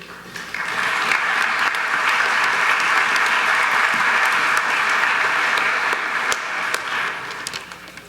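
A school crowd at a 9th grade patch ceremony applauds to welcome a senior speaker, loud sustained clapping that swells quickly, holds steady, then fades out.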